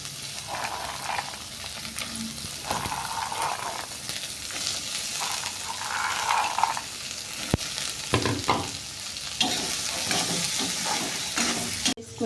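Soaked, washed peas tossed with onions sizzling in a pan, a steady close frying hiss broken by the clatter of stirring, with no talking.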